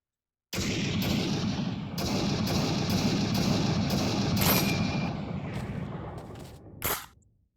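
Rapid volleys of M1 Garand rifle fire from a video game, loud and close, with several sharp bursts in quick succession, a steady roar of repeated shots, then a final crack fading out.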